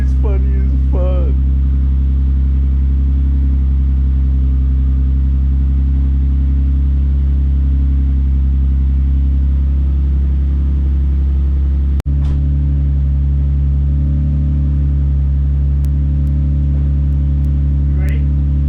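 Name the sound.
Infiniti Q50 car engine revving and idling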